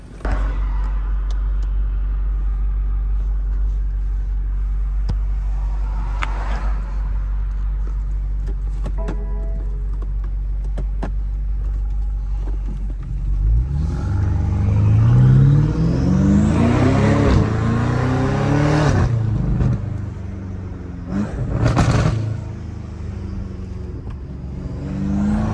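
A BMW F90 M5 Competition with a titanium straight-piped exhaust idles with a deep drone, then revs hard around the midpoint in a loud rising roar with sharp throttle blips, all heard close with no talking.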